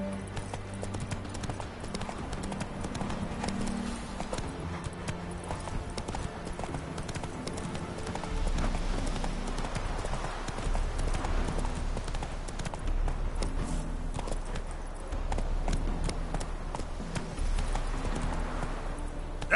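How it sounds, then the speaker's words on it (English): Horse hooves clip-clop steadily in The Witcher 3 on PS4, a rhythmic run of clops that grows heavier about halfway through, set against soft game ambience. "Whoa there, Roach. Come on, Roach"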